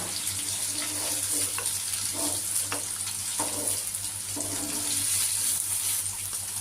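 Paneer cubes fry in hot oil until lightly reddish. A continuous crackling sizzle runs with a low steady hum beneath, broken by a few soft stirring knocks.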